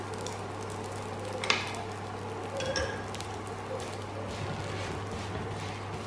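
A paratha cooks in a little oil on a hot pan, giving a soft, steady sizzle throughout with a brief sharper crackle near the middle, under a constant low hum.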